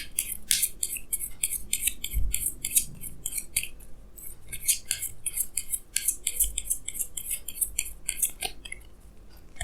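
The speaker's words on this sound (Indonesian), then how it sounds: "Jadi sini saya akan tarik lagi 2 kartu tambahan." Tarot cards are shuffled and drawn in a quiet room, giving a run of crisp, papery slaps and slides in uneven bursts, close to the microphone and without speech.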